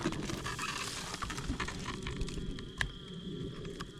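Honey bees buzzing around a hive during fall beekeeping, a soft continuous drone with scattered close passes, a few faint taps, no talk.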